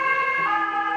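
An ambulance siren sounds loud and close, a sustained steady wail with strong harmonic tones and no speech.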